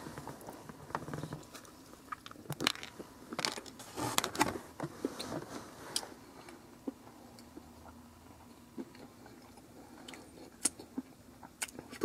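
Biting into and chewing a filled Dunkin heart-shaped Valentine's donut with chocolate chips, soft close-up mouth noises and small crunchy clicks scattered irregularly over quiet background.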